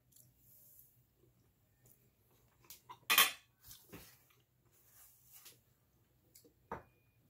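Metal cutlery scrapes and clinks against a plate while scooping rice with gravy from a beef and broccoli stir fry, a few soft scrapes and one louder clatter near the middle, close and quiet.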